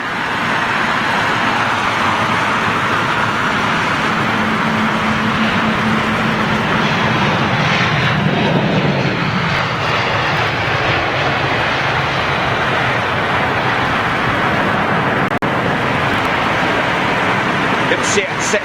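Airbus A319 with CFM56 engines at stormy London Heathrow, a loud, steady broadband jet roar lasting throughout, with a faint rising tone in the middle and voices talking underneath.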